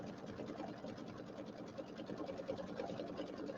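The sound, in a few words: embroidery sewing machine stitching a quilt block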